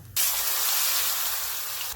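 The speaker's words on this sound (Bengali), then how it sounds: "কাঁচকলাটা কিন্তু ভেজে নেব" Green plantain frying in hot oil in a Bengali home kitchen, a steady loud sizzle that starts abruptly and runs without a break until it cuts off near the end, with no voices.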